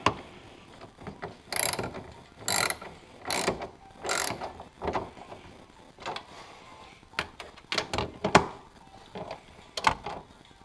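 A hand ratchet clicks in short, repeated bursts as it tightens a tail light fastener on a Pontiac G8, crisp and close, pausing between strokes with no one speaking.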